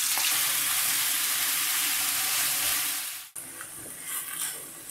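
Chicken mince fries in hot oil with a loud, steady crackling sizzle that drops away sharply near the end, then returns more unevenly with light spatters and stirring.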